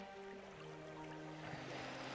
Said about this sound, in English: And then you have waves come in that goes with the strings a little bit.